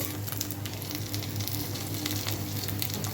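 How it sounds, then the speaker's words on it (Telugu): Vadiyalu, sun-dried lentil fritters, fry in hot oil with a dense, steady sizzle. Small pops crackle through it, close and continuous, with no voices. "ఇప్పుడు చూ వడియాలు వేయించుకుందాం"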